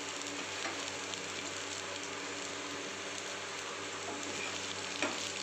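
Potatoes frying with cumin in a pan for a spicy potato dish, a steady dense sizzle running close and even throughout with a couple of faint clinks.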